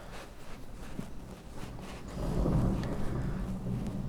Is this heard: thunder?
yes